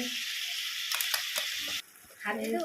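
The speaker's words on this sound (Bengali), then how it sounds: "এখন টমেটো সস দেওয়া হচ্ছে" Tomato sauce going into chilli chicken in a hot pan, with a loud, close sizzle that hisses steadily and then drops off sharply, broken by a few stirring knocks and a brief voice near the end.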